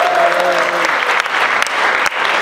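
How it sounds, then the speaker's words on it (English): An audience at a UK stand-up comedy show bursts into applause: loud, dense clapping from a crowd, close and continuous, with a brief voice at the very start. "Round of applause for Amitabh Bachchan ji."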